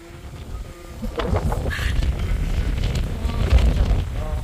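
Strong wind blows at a Jeju Island seaside near Woljeongri beach, buffeting the microphone with loud low rumbling gusts as people talk faintly in the background.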